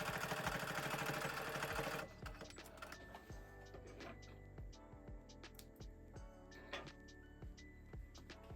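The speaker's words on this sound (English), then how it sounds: "I always go down my seam and do a zigzag stitch so that it doesn't" A domestic sewing machine runs a zigzag stitch down a seam in fraying tartan fabric, its steady rhythmic ticking and whirring heard close and fairly quiet after an opening burst of louder, denser mechanical noise.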